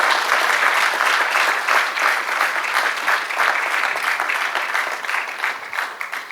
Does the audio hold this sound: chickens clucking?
no